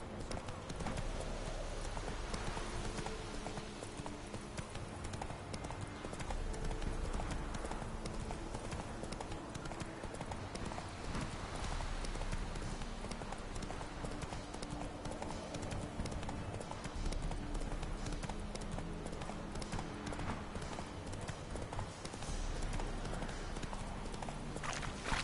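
In The Witcher 3, the horse Roach's hooves clip-clop in a steady, continuous rhythm under constant game ambience, faint and even throughout, with a little speech now and then.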